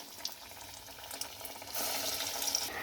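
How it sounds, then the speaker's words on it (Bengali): Bread pakoras slid into hot oil in a kadai, a steady close sizzle and crackle of frying that swells louder near the end as the pieces hit the oil. "এবার আমি এইগুলো তেলের মধ্যে ছেড়ে দেব। তেল গরম হয়ে গেছে।"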